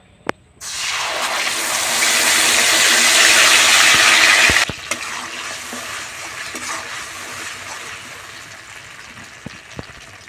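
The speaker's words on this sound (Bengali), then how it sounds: "এবার আমি তেলের মধ্যে মশলাটা দিয়ে দিচ্ছি কাঁচা লঙ্কা সর্ষে বাটা" Green chili and mustard paste hit hot oil in a kadai, erupting into a loud, close sizzle that holds for a few seconds, then drops to a softer steady frying crackle with a few sharp clicks of a utensil.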